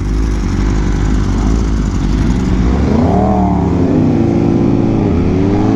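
A BMW M1000RR motorcycle fitted with a full titanium SC exhaust runs loud and close, its engine droning steadily and then rising in pitch as it revs, with no talking.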